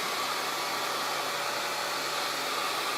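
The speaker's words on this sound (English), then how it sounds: "notice that the blow dryer is not touching my hair" A handheld hair dryer blowing on long hair runs as a constant, loud, even airy roar with a faint motor whine, unbroken for the whole stretch and alone without any voices.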